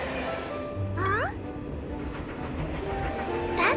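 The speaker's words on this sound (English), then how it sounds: "Meanwhile, Sing Sing also runs into the new train." A cartoon train runs along the track with a steady rolling rumble, and two short rising horn toots sound about two and a half seconds apart.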